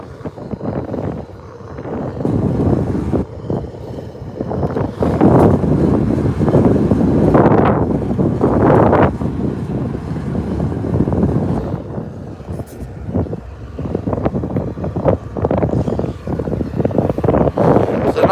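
Strong wind on a blustery day outdoors by the water near railway tracks, buffeting the microphone in loud, uneven gusts that swell and fade throughout.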